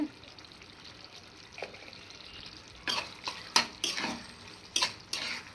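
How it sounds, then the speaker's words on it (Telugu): A spoon stirs prawn fry with chili powder in a cooking pan, at first a quiet faint scrape, then from the midpoint a run of close, sharp metallic clinks and scrapes against the pan in irregular bursts. "రెండు స్పూన్లు కారం వేసి ఇలా అలా కలదిప్పేసి"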